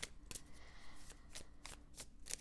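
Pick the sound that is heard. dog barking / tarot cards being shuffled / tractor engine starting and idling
tarot cards being shuffled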